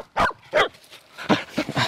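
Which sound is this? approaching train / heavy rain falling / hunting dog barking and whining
hunting dog barking and whining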